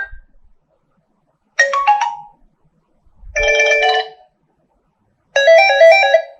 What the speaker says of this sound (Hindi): रिंग टून जाकर चेक करते हैं कि रिंग टून का वॉल्यूम कैसा है।